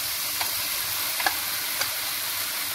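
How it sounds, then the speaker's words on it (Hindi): Bell-shaped pasta being stirred into a chicken fajita mixture in a pan, with a steady soft sizzle and a few faint scraping clicks of the spoon, no talking. "अब इसको अच्छे से हम इसको मिक्स करेंगे।"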